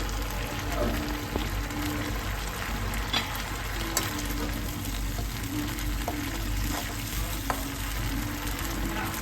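Curry leaves fry in hot oil in a pan, giving a dense, steady sizzle with scattered crackles and pops throughout, close and fairly loud with no speech.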